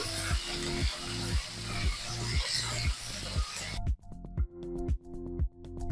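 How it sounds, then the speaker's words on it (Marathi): Paneer pieces are lightly sautéed in a pan, with a soft sizzle beneath a steady series of regular rhythmic scraping or ticking strokes, close and fairly quiet, the sizzle dropping away toward the end. "पनीरही हलकासा परतून घेऊ"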